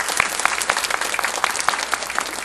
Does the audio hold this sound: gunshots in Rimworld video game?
no